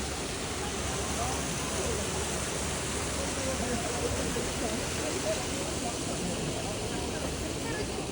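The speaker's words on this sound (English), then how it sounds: "This is natural hot spring water coming from beneath the ground." Natural hot spring water at Kusatsu Onsen in Japan rushes from beneath the ground in a steady, broad, hissing roar that keeps its level throughout, close and continuous like a small waterfall.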